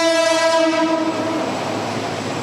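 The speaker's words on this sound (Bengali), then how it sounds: "যেখান দিয়ে কয়েক মিনিট পর পর ছুটে যায় ট্রেন।" A train horn blares loudly over the steady rumble of a train running along a rail line through a market set on the tracks. The horn fades after about a second while the rolling rail noise carries on.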